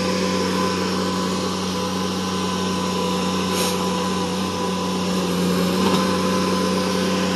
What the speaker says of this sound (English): There's the bulldozer.